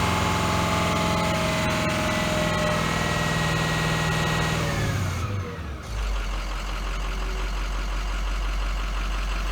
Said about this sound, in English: So it's starting to run rougher.